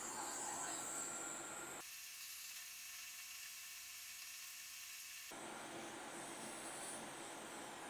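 Hot air rework station blowing at 80% airspeed over a PlayStation memory card board, a steady broadband hiss that holds throughout, with a duller stretch in the middle.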